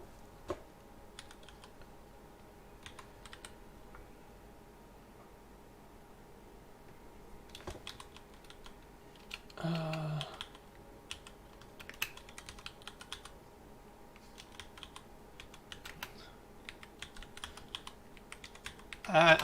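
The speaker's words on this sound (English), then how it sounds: "I need to get a new keyboard actually" Someone types on a computer keyboard, giving soft, irregular key clicks in quiet bursts with brief pauses, plus a louder cluster of clacks near the end.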